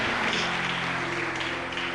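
A congregation at a family celebration church service applauds steadily, a dense wash of many hands clapping under a sustained organ or keyboard chord, with no clear talk.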